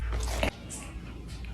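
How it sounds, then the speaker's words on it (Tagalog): Someone bites into food, a brief crunchy chomp up close over a steady low background hum, followed by quieter soft chewing noises. "Ang isang kagat lang ah."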